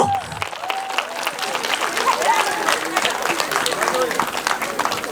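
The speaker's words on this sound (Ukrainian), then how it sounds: "Оплески Володимиру Високу." Applause from an audience at an outdoor folk performance in a grove, sustained clapping at moderate level following a brief spoken announcement at the start.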